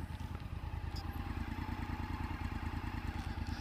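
A Honda CB500X motorcycle sets off on a long-distance ride, its engine a steady, loud, rhythmic thrum that stays close and continuous with faint wind noise over it and no speech.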